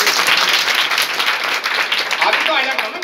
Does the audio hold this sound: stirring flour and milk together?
no